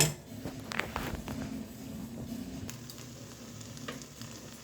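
Chicken sukka sizzling steadily as it cooks in a pan, a continuous low frying hiss with a few soft scrapes and knocks, close and moderately quiet with no voices.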